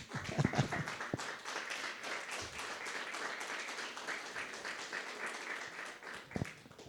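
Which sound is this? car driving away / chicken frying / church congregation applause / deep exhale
church congregation applause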